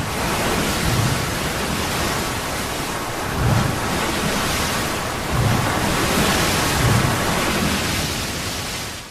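Ocean surf rolls in a continuous broad roar with heavier swells breaking every couple of seconds, loud and enveloping, mixed with wind, with no voices.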